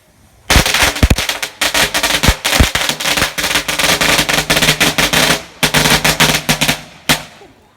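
Long strings of firecrackers burst at a shrine in Chiang Mai: loud, rapid crackling volleys that run for several seconds, break off briefly, then start again, with a few sharper single bangs mixed in.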